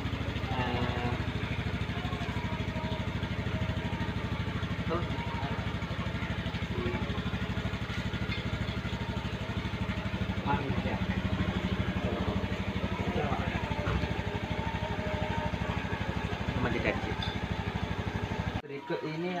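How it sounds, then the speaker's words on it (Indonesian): Honda Scoopy motorcycle engine idling just after being started, a steady low mechanical rumble with fine regular pulsing, close by, continuing evenly until it cuts off at the very end. "Kita coba nyalakan mesinnya."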